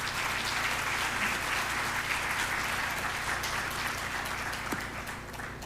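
Audience applause at an awards celebration, a steady wash of many hands clapping that holds evenly for several seconds before tapering slightly at the end.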